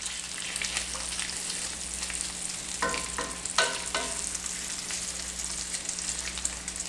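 Strips of bacon fry in a pan, giving a continuous crackling sizzle with bursts of sharper popping midway through, close and steady with no talking.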